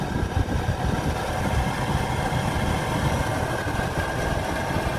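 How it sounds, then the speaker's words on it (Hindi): Blower of the air conditioning in a Tata Tigor car running at its high fan setting, a steady broadband whooshing roar with a low engine-like rumble underneath, continuous and fairly loud with no talking. "7 पे करने के बाद बहुत ज़्यादा इसके अंदर नॉइज़ फील हो रहा है।"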